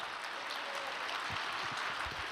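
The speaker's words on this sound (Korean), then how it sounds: "감사의 박수 올리겠습니다" A congregation at an overnight devotional prayer service applauds in thanks, a dense, steady wash of many hands clapping at moderate loudness, continuous throughout without a break.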